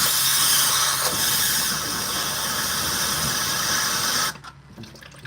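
Old, thick engine oil drains from a sump in a steady rushing pour of liquid that holds for about four seconds, then drops away abruptly. It is close and loud, with no speech.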